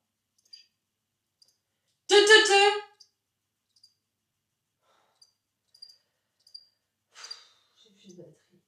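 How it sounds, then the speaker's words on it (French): Faint, scattered cricket chirps in a quiet night setting, interrupted once by a short, loud vocal outburst. "les grillons, vous allez fermer vos gueules"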